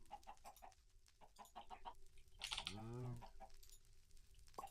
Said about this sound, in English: Oi, what do you think you're doing, chicken?